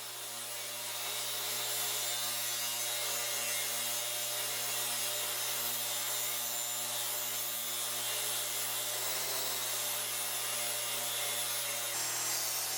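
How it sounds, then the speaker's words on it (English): Steady sawing on wood as a bevel of 10 degrees is cut into the back face of a playing card shelf piece, a continuous loud machine-like rasp with a constant low hum that runs unbroken and close. "To display the cards at a slight angle, I cut a 10-degree bevel on the back face"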